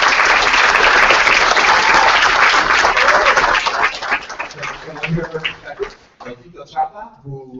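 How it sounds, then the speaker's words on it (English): A loud round of applause from the audience at a Latino coder summit, dense clapping that fades after a few seconds as a voice begins speaking over the tail end. "give us a round of applause"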